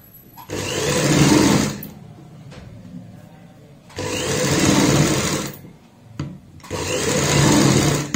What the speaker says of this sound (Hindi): यहाँ पे भी सेम इसी तरीके से रखेंगे पट्टी को और एक पैर चौड़ाई वाली सिलाई लगाएंगे।